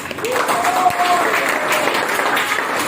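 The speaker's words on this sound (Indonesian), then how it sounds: "Kita berikan aplaus." Students in a classroom give a burst of applause after a group presentation. Dense clapping fills the room steadily from start to finish, with faint voices underneath.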